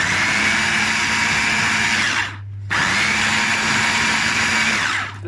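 A food processor whirs loudly and steadily as it blends cheese paste with olive oil, cutting out briefly for about half a second midway before restarting at the same close, continuous drone.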